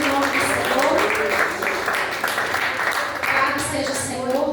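Applause from a church congregation during a family worship service, a steady wash of clapping filling the room at moderate loudness, with voices mixed in underneath.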